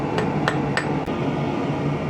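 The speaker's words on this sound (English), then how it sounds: "We're going to use our nice light little rounding hammer for this" A light rounding hammer strikes thin steel four times in quick, even succession while forging a taper for a small fishing hook, each blow a sharp, close metallic clink.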